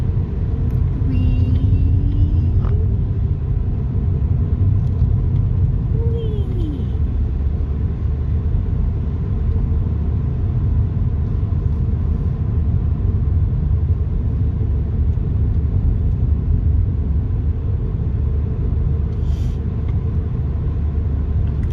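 Car driving along a winding road, a steady low engine and tyre rumble from inside the cabin that runs unbroken for the whole stretch. No voices break through it.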